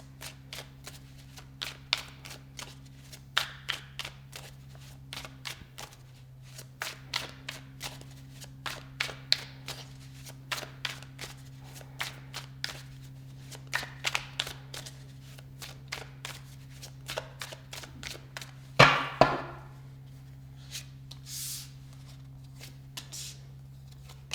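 Tarot cards shuffled continuously for a reading, a steady run of crisp riffling bursts over a low hum, with one louder slap near the end and no talking.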